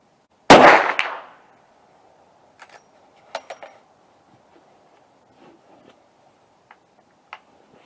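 A Henry lever-action .44 Magnum rifle fires one loud, sharp shot at a 25-yard range, then fainter clicks and clacks follow, likely from the lever action being worked.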